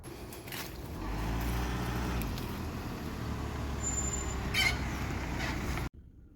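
A Nissan Navara D40 with a no-boost turbo fault driving, heard as a steady low engine and road drone from inside the cab, which cuts off abruptly near the end.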